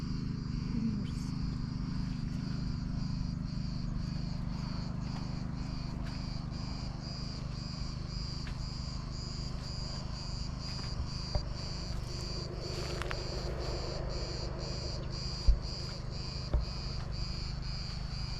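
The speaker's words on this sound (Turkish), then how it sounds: "Ağustos böceğinin sesleriyle sizi biraz baş başa bırakayım." A steady, dense chorus of cicadas buzzing continuously in the background of a field near Izmir, Türkiye, with a few faint clicks and taps, no voices.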